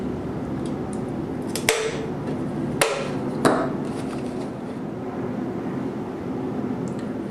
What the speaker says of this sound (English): We need to cut or punch a small hole near the opening we just made.